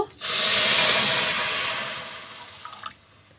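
Water poured into a hot kadai of green peas and green chilies bursts into a loud, close hiss that slowly fades, with a few faint bubbling pops at the end.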